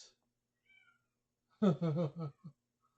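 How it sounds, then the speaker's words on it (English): A cat at a feline rescue center lets out a loud, drawn-out meow close by, followed by a short chirp, with near silence before it. "Do you hear the really loud meowing?"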